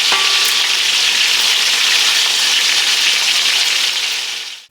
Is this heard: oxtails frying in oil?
yes